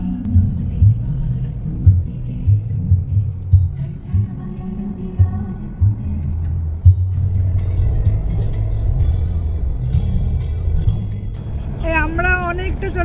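Car cruising on a highway past Hazaribagh on a road trip toward Varanasi, heard from inside as a steady low engine and road rumble with periodic bumps and thumps, with voices near the end.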